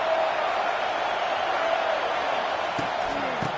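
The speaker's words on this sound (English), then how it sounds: "This crowd bringing the energy and noise early." Steady roar of a large stadium crowd at an American football game, loud and continuous throughout, with a few faint whistles and shouts rising out of the din.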